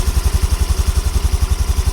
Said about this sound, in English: If you are able to start the engine, then you keep it in idle